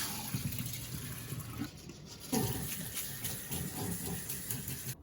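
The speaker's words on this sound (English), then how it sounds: "Let's drain the rice." Water drains and trickles from soaked rice being strained for homemade rice wine, a soft continuous splashing close by with small shifts in flow.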